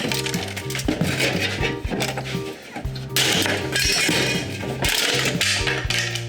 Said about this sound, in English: break the plastic off